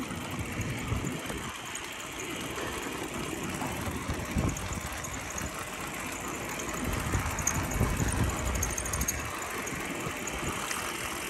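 A Cotton Mouth electric bike rides on pedal assist level one, its motor and drivetrain giving a steady mid-range hum mixed with road and wind noise throughout, with no talking.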